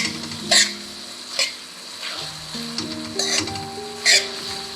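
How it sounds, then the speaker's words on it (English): Tomatoes cooking down in a pot for Mangalorean pepper pork curry sizzle under an open lid, with loud, crisp stirring scrapes every second or so over a gentle bubbling hiss, close and free of talk. "I'm opening the lid and stirring the tomatoes to make sure that they don't stick"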